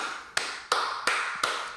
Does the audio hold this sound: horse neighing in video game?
no